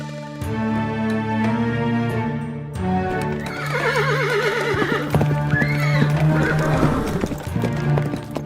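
A horse gives a long, loud, wavering neigh over steady clip-clopping hooves, with a sustained tonal background running beneath.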